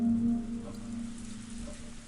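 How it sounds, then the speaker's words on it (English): Rain in the visual novel Umineko, a steady soft patter with a low wind-like hum beneath it, even and continuous with no talk over it. "There's nothing to hear except for the wind and the rain."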